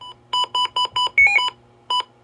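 A series of short electronic button beeps from a weather radio, six in quick succession with a two-tone chirp among them, then a final beep after a pause; clear and close.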